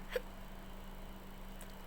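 A single short hiccup sounds close up near the start, followed by quiet with a steady low electrical hum underneath.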